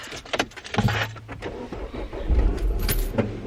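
A car being started and left to idle to warm up on a cold day, with keys jangling, door and interior handling clatter, and a low engine rumble settling in close by.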